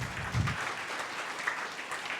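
A church congregation at a worship service claps steadily, a broad, even wash of applause heard at moderate distance that holds for a couple of seconds without pause.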